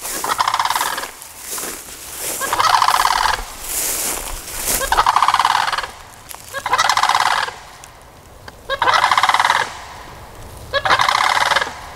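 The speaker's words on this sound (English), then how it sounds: "I don't know if they're gonna fly away or just make their weird noises at me." Harsh, squawking wading-bird calls repeat in loud bursts over a steady outdoor hiss in Florida's Ocala National Forest, several birds croaking close by with short gaps between cries.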